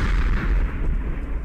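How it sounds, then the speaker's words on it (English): A video game explosion booms loud and close at once, then fades into a rumbling tail, with no talk over it. "Why does the explosion sound come from you?"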